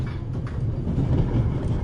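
A train in a video game rolling along rails with a low, steady rumble and faint rhythmic clatter, close and continuous, no voices.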